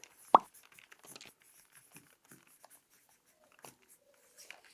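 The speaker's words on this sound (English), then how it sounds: "So let's go ahead and write that right here." A marker scratches out a topic on an inquiry chart in a classroom, with a sharp knock at the start followed by soft, intermittent squeaky strokes, quiet and close.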